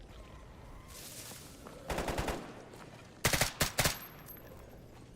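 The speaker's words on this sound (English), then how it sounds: "This is gonna work better against them, because I can just hip fire it with a 50-round mag." An automatic rifle with a 50-round magazine is hip-fired in S.T.A.L.K.E.R. GAMMA. It fires a short burst first, then two louder, rapid bursts a moment later, sharp and close over a low ambient hum.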